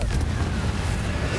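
A Confringo spell going off in Hogwarts Legacy, a short burst of dense rumbling blast noise mixed with whooshing, loud and close.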